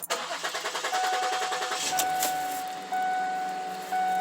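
A 2007 Ford Edge engine cranks with a quick rhythmic starter churn for about two seconds, then catches and settles into a steady idle with a faint chime tone, close and loud.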